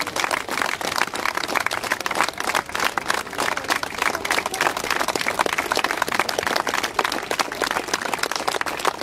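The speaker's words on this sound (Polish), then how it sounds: "Wszyscy klaszczą." A crowd at an outdoor festival show claps along in a fast, even rhythm, steady and dense for nine seconds, with a voice faintly underneath.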